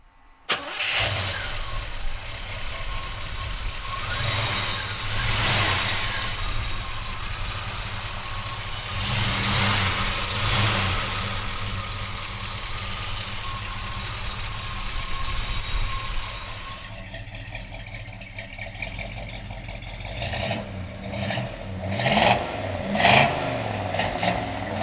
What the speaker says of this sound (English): we're gonna fire it up for you now